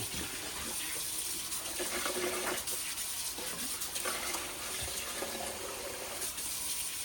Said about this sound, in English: I'm gonna put me some cold water in here.